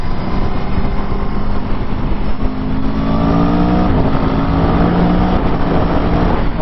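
A 2021 Aprilia Tuono V4 Factory's V4 engine drones steadily while riding, with rising gear-change tones under constant wind rush, close and loud throughout.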